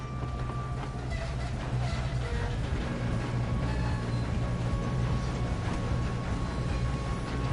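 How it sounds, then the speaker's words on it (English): A moving train in the Western video game Red Dead Redemption, a steady low rumbling roll with faint rattling and clatter, continuous and moderately loud without speech. "We have to stop this train."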